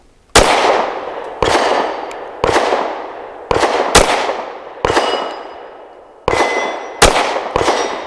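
Walther WMP pistol firing Winchester Varmint high-velocity 30-grain polymer-tip rounds: nine loud, sharp gunshots spaced about a second apart, each with a ringing decay, close up and with no talking.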